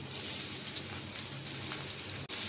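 Chopped onions and potatoes frying in hot oil, a steady close crackling sizzle that holds evenly throughout with only a brief dip near the end.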